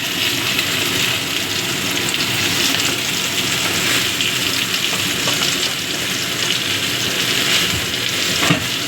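Bitter gourd and potato fry in a pan with a loud, continuous hiss and crackle that stays steady throughout, with a faint clink near the end and no voices.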